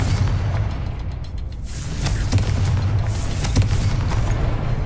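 A Confringo blast spell bursts against a door in Hogwarts Legacy, a muffled booming impact with a second thud, both sitting inside a steady low game rumble and ambient score.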